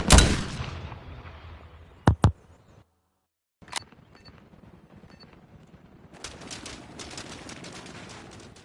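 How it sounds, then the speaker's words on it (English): Gunfire in Call of Duty Modern Warfare: a loud burst opens, followed by two sharp separate shots and a fainter one after a silent gap, then a long spell of softer, rapid distant shooting. "He's shooting, bro."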